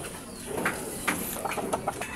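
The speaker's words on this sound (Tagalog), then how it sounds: "First time ko tong makaalaga ng kalapati mga boss." Pet pigeons give a few soft, low coos, faint and close, scattered over a brief quiet stretch with light background hiss.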